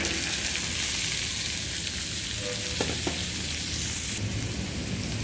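Crushed ridge gourd hitting a hot pan of green chilli chutney, cooked village style, gives a steady, loud sizzle and frying hiss that runs the whole time, with a few faint stirring scrapes and no talk.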